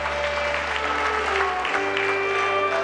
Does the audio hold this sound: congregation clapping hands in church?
yes